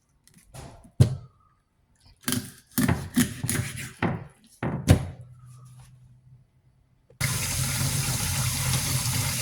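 Tap water gushes steadily while fish is rinsed in a kitchen, following a run of knocks and clatters of handling and cutting; the flow starts abruptly and continues alone.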